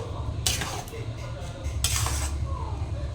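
Coriander leaves being stirred into a pan of dhaba-style egg tarka, a couple of short bursts of utensil scraping and clinking against the pot over a steady low background hum.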